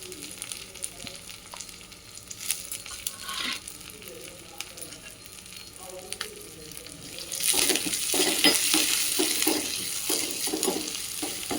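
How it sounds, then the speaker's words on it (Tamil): Hot oil sizzling in an iron pan as spices are tempered, the crackle swelling louder and busier partway through, with scraping stirs. "தாளிக்கிறதுக்கு இரும்பு கடாயை தான் யூஸ் பண்ணியிருக்கோம்."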